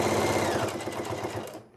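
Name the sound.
sewing machine stitching cosplay costume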